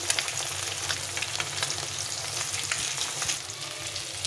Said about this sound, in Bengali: মাছগুলো খুব ভাজা হয়ে গেছে